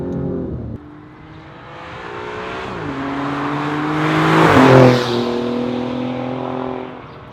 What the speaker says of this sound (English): Such a deep V6.